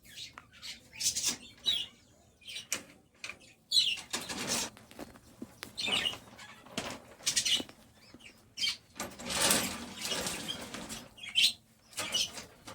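Birds move about inside a bird house with repeated bursts of wing flapping and scuffling, interspersed with faint chirps, close and uneven in rhythm.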